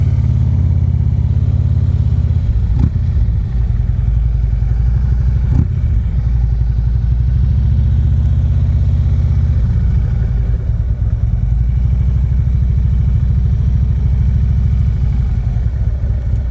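A motorcycle pulling away in first gear during a riding lesson, its engine rumbling loud and steady, close by and continuous throughout, with a low droning tone and occasional clunks.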